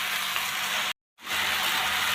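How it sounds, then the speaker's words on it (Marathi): Hadga flower vegetable sizzles steadily as it is stirred in a frying pan, a dense frying hiss with a brief gap of silence near the middle. "आता याला एकदम व्यवस्थित असं हलवून घेऊया।"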